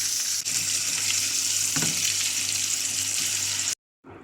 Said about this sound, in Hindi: हम चिकन को लो फ्लेम पर 7 से 8 मिनट फ्राई करेंगे।